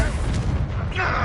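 A Confringo explosion spell blasts in Hogwarts Legacy, a loud, deep booming burst that rumbles through the whole moment, with a brighter crackling flare near the end.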